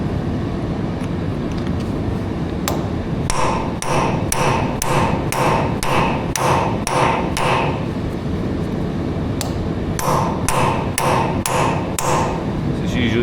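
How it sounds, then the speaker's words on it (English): Hammer blows on an A4T rear axle during repair work, not a claw hammer: a loud rapid series of metallic strikes in two bursts, close and sharp over steady background noise. "I'm using a good enough size hammer. And it's not a claw hammer."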